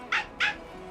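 Two short, bright yaps from a dog in the video game Honkai Star Rail, spaced about a quarter second apart, close and clear over a faint electronic background hum.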